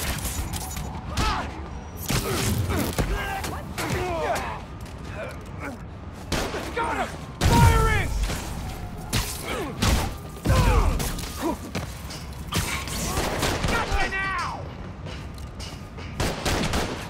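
Gunfire in the Spider-Man Miles Morales video game: repeated bursts of shots and thumping impacts scattered across a busy game mix, with voices shouting at times.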